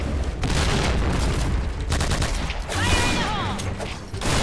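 Point Blank match with dense, loud gunfire: rapid overlapping shots and booms build into a continuous fusillade, close and harsh. A voice briefly talks underneath.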